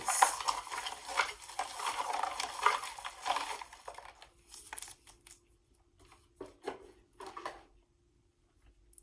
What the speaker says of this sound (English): Whenever I shuffle, it might be a little bit loud